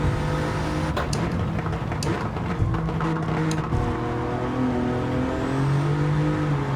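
Toyota 86 fitted with an Alfa Romeo V6 swap in Gran Turismo 7, its engine holding a steady sustained note with throttle modulation and brief tonal shifts as the car is balanced through a rotation, loud and continuous.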